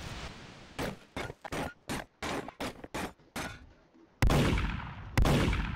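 Bursts of gunfire in the video game Garry's Mod, about eight sharp loud shots in an uneven rhythm, followed by two heavier booming blasts, close and with no talking.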